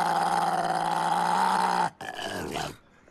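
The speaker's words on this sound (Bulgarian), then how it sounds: "Чувал съм много кучета да ръмжат." A dog growls in a long, low, steady rumble close by, then breaks off and gives a shorter rough snarl before falling quiet.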